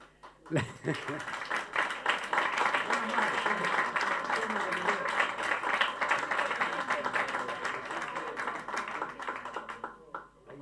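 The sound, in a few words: audience applause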